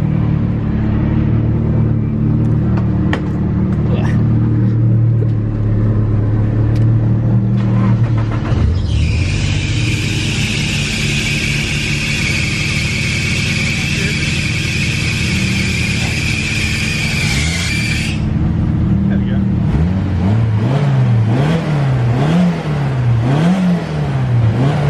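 A Nissan S13 with an SR20DET engine cranks, fires and idles roughly, then revs up in a long sustained high whine before dropping back and blipping the throttle several times, loud and close with no talk.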